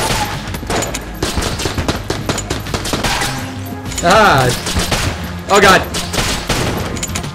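Gunfire in the video game Enter the Gungeon comes as rapid bursts of loud shots, with clusters of zapping and popping effects between them, while a player exclaims over the action.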